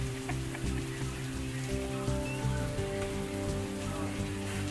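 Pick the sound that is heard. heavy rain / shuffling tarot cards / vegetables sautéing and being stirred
heavy rain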